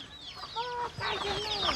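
Several chickens cluck and squawk close by, with short rising and falling calls overlapping in quick succession and no speech.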